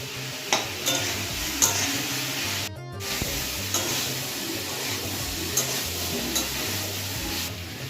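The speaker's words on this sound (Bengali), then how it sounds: "এবার সবজিটার মধ্যে দিয়ে দেবো কিছুটা হলুদ, ধনের গুঁড়ো, জিরে গুঁড়ো, লঙ্কার গুঁড়ো, আর সব কিছু ভালোভাবে কষিয়ে নেব।" Vegetables for dal are sautéed with turmeric, coriander, cumin and chili powder, giving a steady frying sizzle marked by several sharp scrapes and knocks of a spoon against the pan, with no speech.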